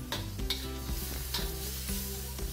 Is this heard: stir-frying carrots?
yes